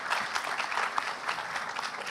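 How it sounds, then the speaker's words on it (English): A gala night ceremony audience gives dense, continuous applause at a moderate, even level, with no pauses in the clapping. "I believe all of you deserve a big round of applause again."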